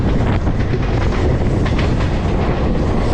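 Passenger train 17046 Anakapalle–Charlapalli rolling along the rails, a loud, steady broadband rumble with faint rhythmic clatter of wheels over joints, close by and continuous with no voices.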